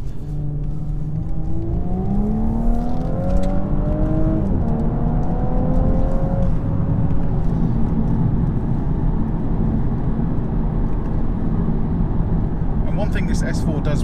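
A 2018 Audi S4 Avant in sport mode accelerates from inside the cabin, the engine note climbing through the gears with a steady road roar underneath, loud and continuous.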